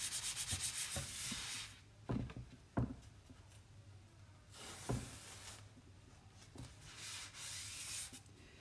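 A chalk transfer stencil is rubbed and fuzzed on a surface for a vintage Christmas tree craft, giving soft, close scratchy rubbing strokes. They come in bursts with brief taps between them, fairly quiet, and no one speaks.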